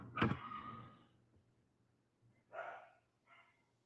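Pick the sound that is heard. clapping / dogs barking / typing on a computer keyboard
dogs barking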